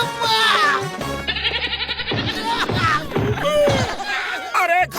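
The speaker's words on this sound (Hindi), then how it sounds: "अरे इस बकरी को यहाँ से भगाओ।" A goat bleats in a Hindi cartoon, sounding as loud, wavering cries repeated several times close up, mixed with voices and other cartoon sounds.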